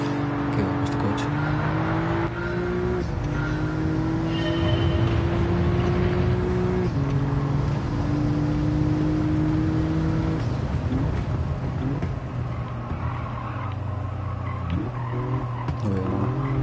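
Racing car in Gran Turismo 7 with a sustained engine drone that rises and falls through gear changes, mixed with continuous tire skidding and squeal through the corners, loud and steady throughout.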